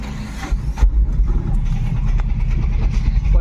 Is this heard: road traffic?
yes